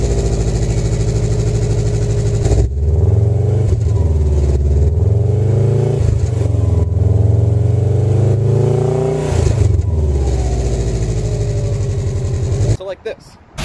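Subaru WRX on its stock exhaust, idling and then revved several times, with a loud, close, rising and falling engine drone and a voice talking over it.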